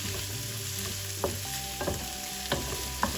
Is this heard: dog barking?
no